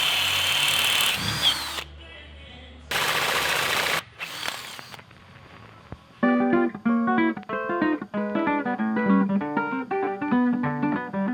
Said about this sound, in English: I'm going to drill it out for now